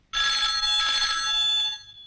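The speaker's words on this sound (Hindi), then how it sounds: "देखना तो किसका फोन है" A telephone bell rings loudly and continuously for about a second and a half in a quiet room, a steady electronic trill with no talk over it.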